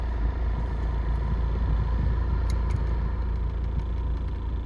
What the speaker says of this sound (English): Let's turn on the car and see if we can hear any weird noises.